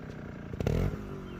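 Trials motorcycle engine during a clutch-in, rear-brake control drill, a steady low idle that surges in a short burst of throttle before settling back, close and fairly loud.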